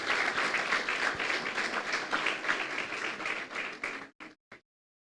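A church congregation bursts into loud, sustained applause, dense clapping that fills the room for about four seconds before thinning to a few last scattered claps and silence.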